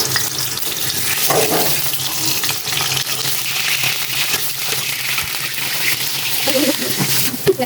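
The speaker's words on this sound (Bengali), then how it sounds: "তো দেখো আমি পিস পিস করে 6 পিস আলু কেটে নিয়েছি, এটাই আমি এখন ভাজি করে নিব।" Six cut potato pieces frying in a pan for pork biryani, a steady close sizzle with watery crackling and occasional stirring clatter, continuous and moderately loud.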